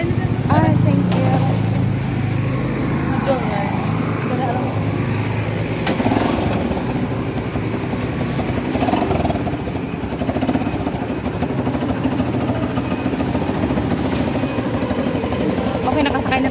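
A motorized tricycle engine runs steadily through a ride in the Philippines, a continuous rumbling drone with mechanical rattle that stays loud throughout, with people talking over it.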